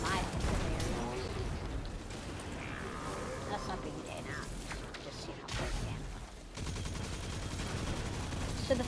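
Rapid automatic fire from the Huckleberry submachine gun in the video game Destiny 2, a dense, continuous burst of gunshots with brief gaps, mixed with game effects and a person talking over it.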